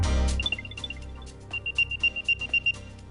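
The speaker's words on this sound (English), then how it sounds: "That's the sound of Apple's latest gadget, the AirTag." An Apple AirTag plays its locating sound, a run of bright high chirping electronic tones, first softer and scattered, then a steady series of repeated beeps close by, with no talking.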